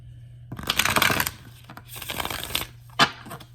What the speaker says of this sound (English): Oh my God, you guys see I'm shuffling.